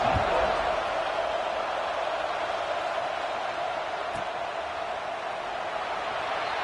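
A packed stadium crowd in a college football video game, Tennessee Volunteers against Oklahoma, roars steadily before kickoff, a constant wash of cheering with no individual voices standing out.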